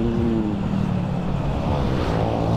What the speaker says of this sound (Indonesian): kita gas dulu ya, kita salip dulu cok